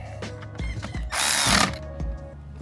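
A power tool briefly runs to drive bolts down on a solar trickle charger mount, a loud burst of buzzing whir in the middle of the clip amid scattered clicks and handling knocks.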